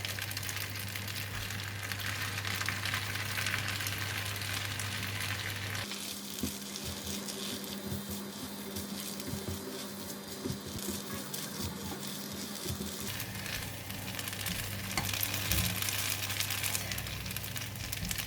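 Kway teow noodles with bean sprouts stir-fry in a hot pan, giving a steady sizzle with scraping and tossing through the middle section, close and continuous.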